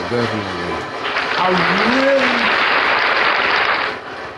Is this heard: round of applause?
yes